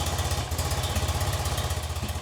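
A classic BMW R65LS motorcycle with its carbs tuned for a low idle speed, its engine idling steadily up close with an even, lumpy low pulse and no voices.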